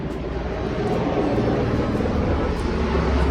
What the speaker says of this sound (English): Excuse the helicopter sounds.